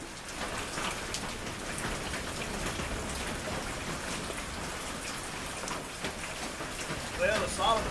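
Steady rain falls and patters on surfaces outdoors, a dense continuous hiss throughout, with a few faint bird-like chirps near the end.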